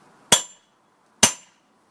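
Two sharp metallic hammer strikes on the central nut holding the points of a Vire engine, each a close, ringing clink about a second apart, in an otherwise quiet workshop.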